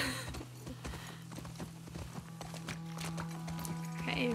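Horses clip-clop in The Last of Us Part II video game. Quiet, scattered hoof clicks sound over a low steady hum, with faint game ambience.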